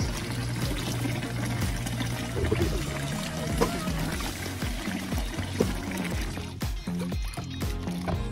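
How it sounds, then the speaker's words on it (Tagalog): Water runs and splashes continuously, with soft clinks and rustling as squeezed vegetables for okoy (Filipino fritters) are rinsed, over a steady background hum. "hugasan na natin ng tubig"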